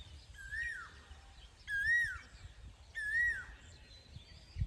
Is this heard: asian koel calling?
yes